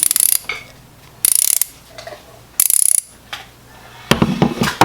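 A 3/8-inch swivel-head ratchet clicks in quick, loud bursts close up, several separate runs of rapid pawl ticks with short pauses between.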